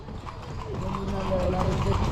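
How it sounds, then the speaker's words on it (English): Horse-drawn carriage in Marrakesh traffic, hooves clip-clopping in a quick, even rhythm at moderate distance, with a voice talking over it. "we are riding to service on horse-drawn carriages"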